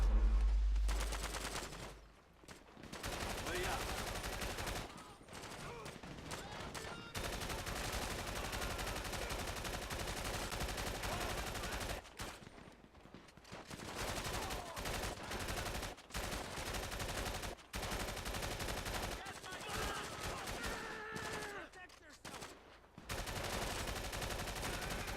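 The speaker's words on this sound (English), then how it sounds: "Get some pot shots off on these guys." Gunfire in the video game GTA V during a gang turf battle: sustained bursts of automatic shots and scattered single cracks, loud and dense, with a few brief pauses between volleys.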